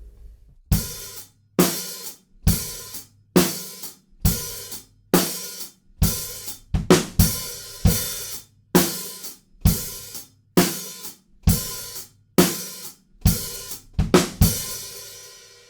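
A drum kit plays a steady beat, with sharp regular hits and a washy, loose hi-hat on each quarter note, loud and close with no voices.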